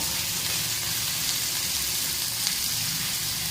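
Finely chopped onions sizzle and fry steadily in a pan as they are stirred and browned, a continuous close crackling hiss.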